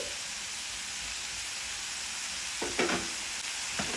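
Chopped tomatoes fry with a steady, close sizzle in a pan for bottle gourd chutney, with a few brief stirring clatters toward the end.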